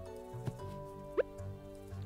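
Watering plants with a watering can in Stardew Valley produces a few short, soft droplet splashes and a quick rising chirp over quiet, sustained background game music.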